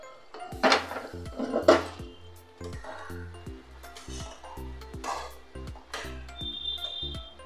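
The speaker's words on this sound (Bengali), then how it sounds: "আমি একটু ঢেকে দিচ্ছি, আবার ঢাকনাটা তুলে দেখে নিচ্ছি।" A metal pot lid set down and lifted back off a pot of chicken malai curry on the stove, giving a few close clinks and scrapes among quieter kitchen clatter, with a faint sizzle.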